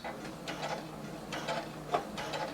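A sewing machine stitches a skirt seam, back-stitching and then stitching forward, giving short bursts of mechanical clatter and whirring with brief pauses between runs, close and moderately quiet.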